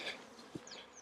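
Honey bees buzz at nucleus hives of Buckfast bees, a faint, brief hum with a couple of individual bees passing close.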